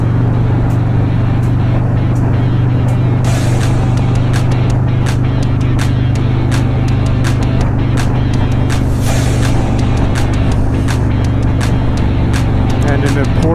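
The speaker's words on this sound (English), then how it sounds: "look at the traffic here" Road traffic near the Port of Tacoma makes a steady, loud engine drone with passing-vehicle rush throughout, as if heard from inside a moving car, while people talk over it.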